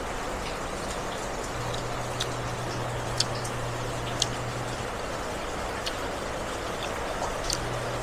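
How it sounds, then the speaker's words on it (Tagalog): Heavy rain falling steadily, a dense constant hiss with scattered sharper drops ticking on a nearby surface, close and unbroken throughout. "Ay, ang lakas ng ulan."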